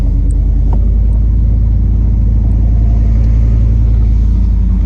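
A 1993 OBS truck with a 350 engine and stall converter idles with a heavy, steady low rumble that builds slightly as it pulls away, loud and close with no talking.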